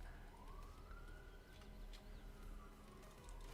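A police car siren passes outside in a small Iowa town, a faint distant wail rising and falling beneath steady background noise.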